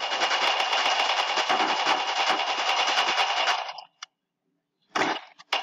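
Machine gun firing in a video game, a loud, sustained rapid burst of close shots lasting several seconds, then a sudden silence before a brief final volley.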